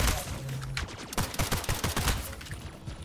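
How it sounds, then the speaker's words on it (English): Rapid bursts of gunfire in the first-person arena shooter Splitgate, dense sharp shots in quick succession at close range with no talk. "Pistol pala yan!"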